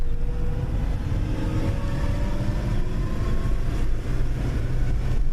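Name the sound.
1999 Mercedes E320 engine at 2,500 RPM stuck in first gear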